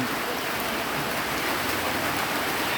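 Heavy storm rain in Sisaket, Thailand pours down in a dense, steady hiss, unbroken and loud, with no voices.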